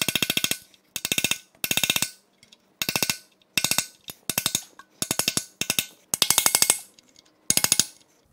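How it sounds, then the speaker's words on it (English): A chisel is hammered against the lip of an oil pan to free it from a bolt during a Nissan 350z VQ35HR engine teardown. Bursts of rapid metallic hammer strikes ring out close and loud, with short silent pauses between bursts. "I actually have to chisel this lip of the pan away from the bolt"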